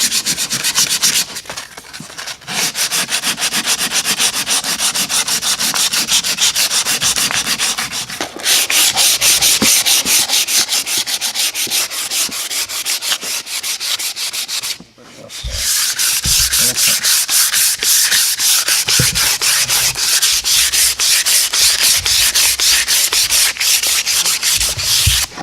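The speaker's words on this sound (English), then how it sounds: "do some final sanding" Bamboo wood of a bow limb is sanded by hand in long, loud, rhythmic rasping strokes, with a short pause near the middle before the scratchy rubbing resumes.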